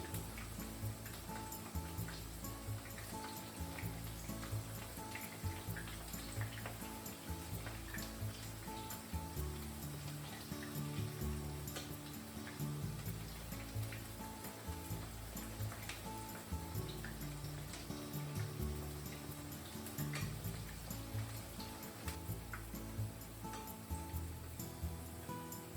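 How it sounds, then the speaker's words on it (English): Okra fries frying in hot oil, a steady, faint crackle and sizzle that holds unbroken and fairly distant, with no talking. "just fry them for 1 to 2 minutes until it's crispy"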